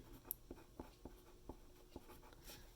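A pen or pencil writes math on paper, tapping and scratching in short separate strokes, close and quiet in a still room.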